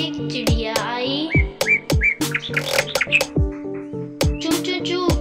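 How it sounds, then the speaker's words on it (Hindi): A bird chirps in a children's story, with sharp repeated tweets and short whistled calls in an uneven rhythm, bright and close, as clear separate bursts. "आमना के पास एक चिड़िया आई।"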